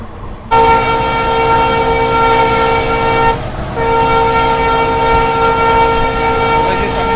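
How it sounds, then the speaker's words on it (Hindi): The 14716 Jaipur Hisar Express sounds a long, loud, steady horn close by with rumbling rail noise underneath, the blare dipping briefly midway before continuing to the end. "14716 जयपुर हिसार एक्सप्रेस।"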